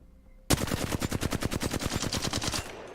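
Sustained automatic gunfire from a video game, a rapid string of about twenty evenly spaced loud shots starting abruptly and running without pause, no voices over it.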